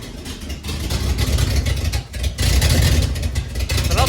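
A car engine runs with an unwelded, leaking exhaust, giving a dense, rumbling roar that swells and dips briefly before holding steady, loud and close.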